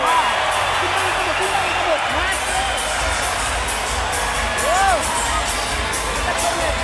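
A boxing arena crowd at ringside cheers and roars after Manny Pacquiao's win over Timothy Bradley, a dense sustained wall of crowd noise with scattered whoops, heard under the commentators' voices.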